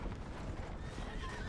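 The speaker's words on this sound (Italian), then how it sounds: "adesso ho chiamato il cavallo" A horse in Red Dead Redemption II neighs and trots in with clip-clopping hooves, fairly close and steady over a busy background of ambient game noise.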